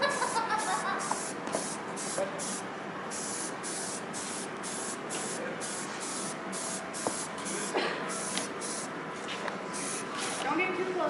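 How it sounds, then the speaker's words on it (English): A can of spray paint hisses in a series of short bursts, some close and some farther off, while people talk nearby. "Don't get too close to the spray paint."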